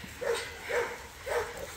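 A puppy barks, with a Cane Corso among the dogs present, giving three short, evenly spaced yips close by, each a brief high bark with quiet gaps between.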